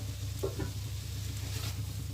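Broccoli sizzles in a wok just after the lid comes off, a faint steady frying hiss with a couple of soft clinks, no voices.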